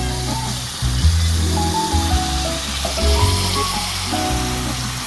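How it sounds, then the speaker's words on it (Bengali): Finely chopped potatoes drop into browned onions frying in a pan for egg curry, giving a steady close sizzle with faint hiss and stirring, with tonal sounds running underneath. "এই পর্যায়ে আমি আলু যে কুচি করে রেখেছিলাম সেগুলো দিয়ে দেবো, যাতে করে পেঁয়াজের সাথে ভালো করে আলু কুচিগুলো মিক্স হয়ে যায়।"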